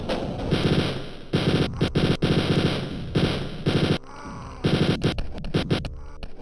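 Rapid bursts of chain gun fire in Wolfenstein 3D, loud clattering volleys in several stretches separated by brief pauses, with scattered single shots near the end.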